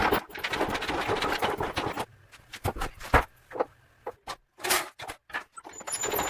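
A honey extractor spinning honeycomb frames during a beehive harvest, with a loud close rattling whir for two seconds, then scattered knocks and clunks as it slows and stops.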